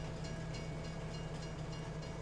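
Train in the Farming Simulator 22 video game rumbling steadily into town, a low continuous rolling drone with a faint hum, quiet and unbroken.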